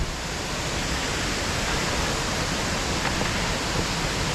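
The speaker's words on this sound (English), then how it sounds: "we can certainly hear the crashing water of the Hog's Falls down below us" Hog's Falls waterfall crashes below a wet hiking trail, a loud, dense, unbroken roar of falling water that fills the whole clip without any voices.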